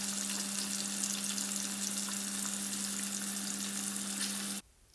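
Slices of Spam frying in a pan, a steady, close, dense sizzle that holds evenly throughout with no talking, then cuts off abruptly just before the end.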